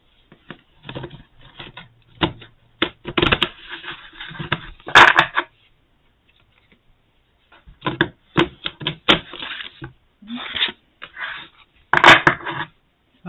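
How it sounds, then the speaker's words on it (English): Bursts of papery rustling and quick riffling of oracle cards being shuffled, close by, in two rounds separated by a pause of near silence. "I'm just shuffling."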